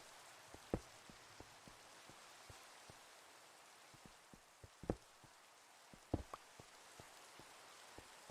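Steady rain patters across a video game world, a soft continuous hiss broken by scattered sharper droplet ticks and a few louder splats, quiet and even throughout with no voices.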